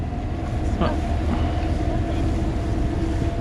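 A sailboat's inboard engine with the throttle opened a little, giving a steady, loud low rumble that runs throughout, with a faint brief knock partway through.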